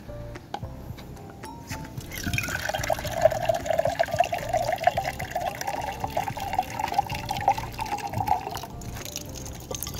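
Water runs from a freshly opened tap near Cerro Ñemby in Paraguay, a steady close splashing flow that starts after a couple of seconds and keeps going to the end.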